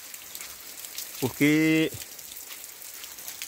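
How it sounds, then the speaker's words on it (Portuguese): Heavy rain falls steadily at a rural farm, a constant broad hiss of drops on surfaces throughout, with a brief spoken word in the middle. "Acho que é muita chuva, viu? É muita chuva."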